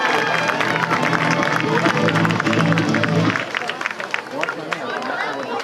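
A crowd at a high school football game applauding and cheering for the Beachwood cheer squad: dense clapping and crowd noise rising under an announcer's amplified voice, then continuing alone in a scattered spread of claps.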